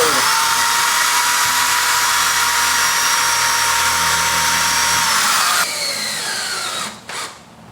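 A power drill bores holes for hurricane fabric anchors, a loud, steady high whine held for about five seconds, then winding down with a short final burst.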